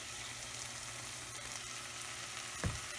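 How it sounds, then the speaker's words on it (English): Chopped tomato frying in a pan for Chettinad shrimp fry, a dense steady sizzle filling the whole stretch, with one brief thump near the end. "Next add tomato. And cook tomato until it cooked well"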